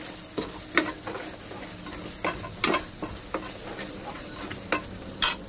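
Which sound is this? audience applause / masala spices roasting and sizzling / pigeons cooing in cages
masala spices roasting and sizzling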